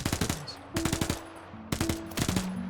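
Machine gun fire in the Gates of Hell war game, Finland versus USSR: several rapid bursts of closely spaced shots, loud and fairly near, separated by short pauses, with game ambience underneath.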